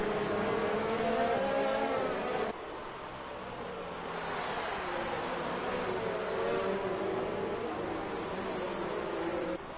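Race cars in a PS4 racing game accelerating back to racing speed after a safety car restart, engines whining loudly and steadily with a sharp drop in level partway through, no talk.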